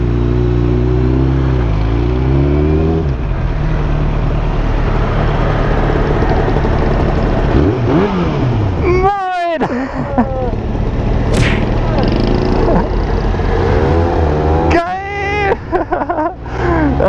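Several 125cc motorcycles ride past with rising and falling engine whine, growing louder as they approach and fading as they go, heard under excited voices.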